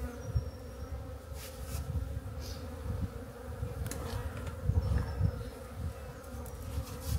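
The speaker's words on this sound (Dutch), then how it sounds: "een mooie bak met bijen." Honeybees hum inside a hive box during a late-January colony check, a dense, continuous buzzing drone close by with individual bees flitting past, no voices over it.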